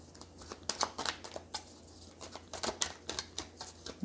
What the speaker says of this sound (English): I'm going to just give it a few more shuffles